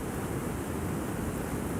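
Waterfall in Skyrim, a continuous broadband rushing roar of falling water, steady and fairly loud throughout with no talk.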